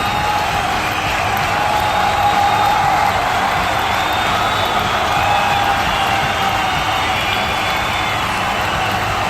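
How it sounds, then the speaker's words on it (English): Crowd at a UAW Armageddon wrestling event on October 31, 2019, heard as a steady, loud wash of cheering and noise that holds level throughout. "And listen to this crowd, Roadhog."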